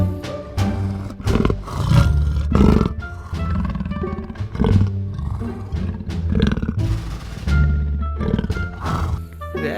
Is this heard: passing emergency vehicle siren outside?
no